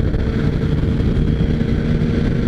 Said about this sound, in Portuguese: Achei que ia vir poucas motos aí, veio até que bastante moto aí